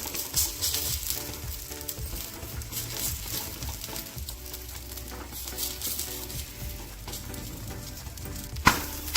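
A paratha fries in ghee on a hot pan while being pressed until crispy, giving a steady, dense sizzle with light crackling throughout and no speech.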